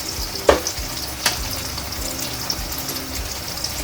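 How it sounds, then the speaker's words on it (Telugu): Ginger garlic paste frying with browned onions in a pan, a steady close sizzle with a couple of sharp stirring clicks, no voices. "అల్లం పేస్ట్ అనేది పచ్చి వాసన పోయే వరకు వేయించుకోవాలండి"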